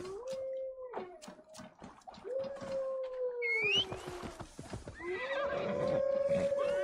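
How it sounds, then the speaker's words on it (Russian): A whistle call summons a horse in the video game Assassin's Creed Valhalla, followed by rising whistled tones and a drawn-out horse neigh and whinny over rustling game ambience and hoofbeats. "сейчас свистну, и опять лошадь появится"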